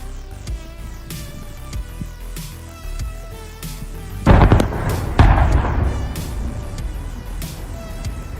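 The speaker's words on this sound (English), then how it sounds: "some exclusive footage actually, of the blast." Demolition blast bringing down a power station's main building, heard as a heavy distant boom followed by a second rumbling burst, trailing into a long low rolling roar under steady background noise.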